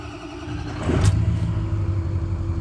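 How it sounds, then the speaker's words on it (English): A 2006 Ford F250 pickup with the 6.0 diesel engine cranks and catches, a low mechanical rumble swelling about a second in and then settling into a steady close idle. "I'm going to start the truck."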